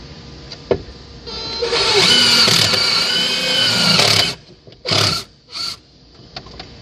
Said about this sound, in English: I just use a self-tapping screw to make a hole, a shorter screw here to screw the relay socket down